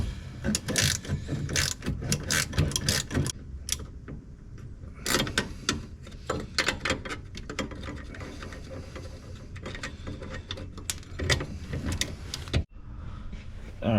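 A socket ratchet clicks rapidly and steadily while loosening the rear subframe mounting bolts on an E36, close and continuous for the full length with brief pauses and some clanks, and no voices.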